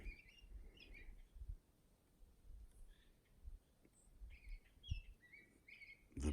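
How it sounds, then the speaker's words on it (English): Birds chirp and call in scattered bursts behind an off-the-grid cabin, the tweets fairly distant and faint over a low, steady outdoor rumble, with no talking. "The birds."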